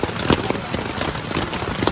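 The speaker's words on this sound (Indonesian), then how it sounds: "Dan di luar tuh masih hujan ya" Steady rain falling outside a campsite high on Mount Cikuray, a dense even hiss with scattered louder patters, heard alone without voices.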